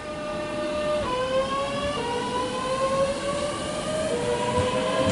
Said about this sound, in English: I've got this southeastern train departing.